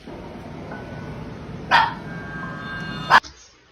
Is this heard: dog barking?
yes